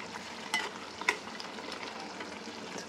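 Chicken keema frying in a pan as slit green chillies go in, a steady close sizzle with two sharper crackling bursts, no talk.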